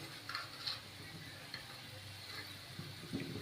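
Sliced potatoes shallow-frying in a small amount of oil, a soft continuous sizzle with light clicks of stirring, close and steady with no talk.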